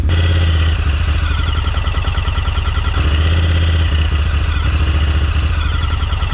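Honda leaf blower engine running roughly, a loud, steady close-up drone with an uneven, stuttering pulse throughout and no voices.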